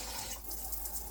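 Water pouring into a pot for cooking rice, a brief steady rushing splash close by.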